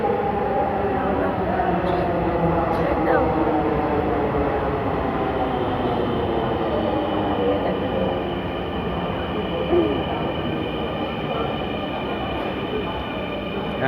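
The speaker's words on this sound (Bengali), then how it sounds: "ট্রেন চলে আসছে।" A metro train pulls into the station platform with a loud, steady rumble and rising whine of electric motors, rail noise filling the whole stretch.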